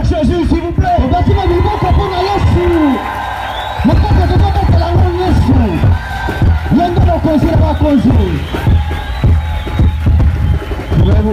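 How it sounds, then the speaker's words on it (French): Large crowd at an evangelistic crusade raising a loud chorus of cheers and shouts, surging in waves with a brief dip partway through, many voices overlapping close and strong. "Une acclamation pour Jésus, s'il vous plaît."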